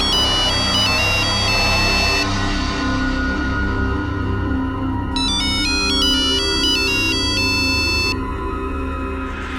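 A phone ringtone plays a repeating electronic melody in short bursts, pausing midway and then resuming over a steady background hum.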